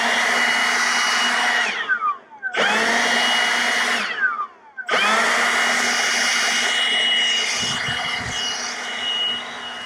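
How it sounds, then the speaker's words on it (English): Small handheld blower pushing clumps of vegetation off a driveway, a loud, close, steady roar that cuts out twice in short bursts before running on continuously, with no talk. "these clumps of vegetation, you hit them with the blower and they go off the road."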